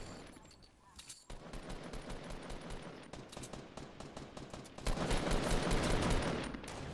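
Rapid gunfire in Fortnite, sustained bursts of shots that start soft, grow denser after a second and swell louder near the end, mixed with faint voices in the background.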